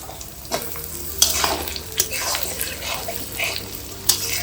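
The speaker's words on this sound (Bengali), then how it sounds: "আলু কুচনোগুলো দিয়ে দেওয়া হলো, আলুগুলো ভাজা হয়ে যাবে এর সাথে সাথে" Chopped potatoes fry with spices in a pan, with close sizzling broken by repeated scraping stir strokes.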